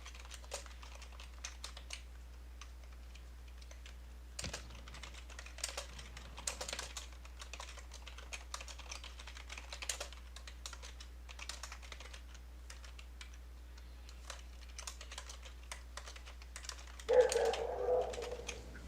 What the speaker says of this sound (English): I can hear Jeremy's typing.